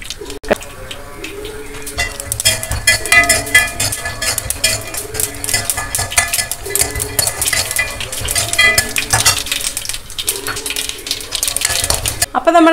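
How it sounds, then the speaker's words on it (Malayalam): Mustard seeds splutter in hot coconut oil in a pan while a pumpkin and peanut masala is cooked. Loud, dense crackling and popping continue for about thirteen seconds, with occasional scraping from stirring. "അപ്പൊ നമ്മളത് കടുക് പൊട്ടിയിട്ടുണ്ട് കേട്ടോ"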